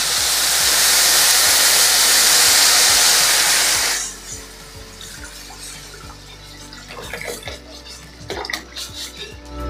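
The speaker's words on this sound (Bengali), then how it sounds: "এবার জল দিয়ে দেবো পরিমাণ মতো" Water gushes loudly into a cooking pot for khichuri for about four seconds, a dense rushing pour, then gives way to quieter bubbling and clinking in the kitchen.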